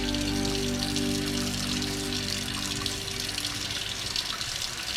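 Tap water runs in a steady, continuous broadband stream as hands are wetted for a lavender sugar scrub, close and fairly loud with no voices.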